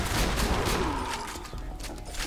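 Explosive bullets fire in rapid bursts in the video game Borderlands 2, a dense fusillade of sharp cracks and booms that trails into scattered, fainter shots.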